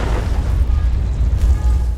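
A massive film explosion destroys a cabin, heard as a deep, sustained low rumble and roar that fills the whole moment, loud and continuous with no voices.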